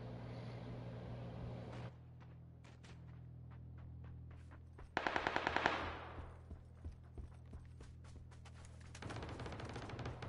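Bursts of automatic gunfire from a PUBG firefight, mostly distant, with one sharp rapid volley mid-way among scattered single shots over a low engine-like rumble; no talking.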